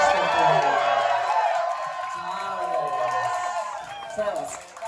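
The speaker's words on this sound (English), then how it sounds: "Give them another cheer while they catch their breath." A drag show audience cheering and whooping, a broad wash of crowd noise that swells and fades over a few seconds, with voices shouting within it.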